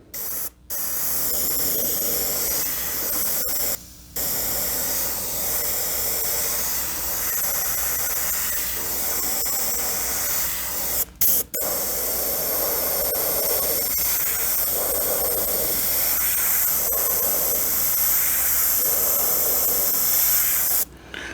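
A steady, close hiss from an Iwata High Performance HP-C Plus airbrush spraying paint strokes runs almost continuously, broken by a few brief gaps between strokes.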